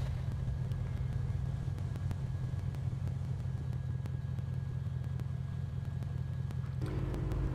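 A steady, droning engine from an R35 tuned to 1,000 horsepower in the mobile drift game Torque Drift holds a low, even rumble throughout, with a brief shift in tone near the end.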